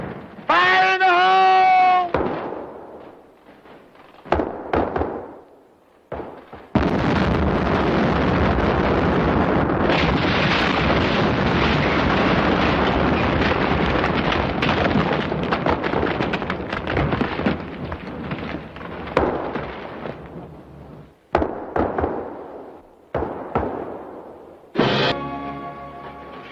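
Battlefield explosions from a 1953 Korean War film erupt as loud, sustained blasts that roar for many seconds, followed by shorter bursts and rumbles, with shouting voices heard between them.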